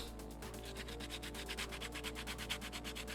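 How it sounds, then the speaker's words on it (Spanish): Fine sandpaper rubs back and forth on a homemade porcelain craft piece in quick, even strokes, a soft rhythmic scratching heard close up. "Vamos a lijarla para que quede bien bonita antes de pintarla"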